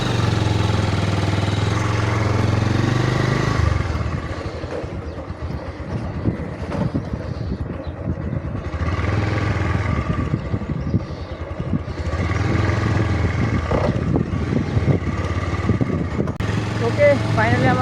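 A motorcycle engine drones while riding, a low steady rumble mixed with heavy wind buffeting on the microphone that rises and falls through the ride.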